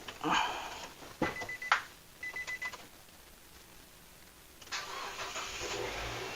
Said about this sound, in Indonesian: Hanya dengan aki sepeda motor starternya jadi lancar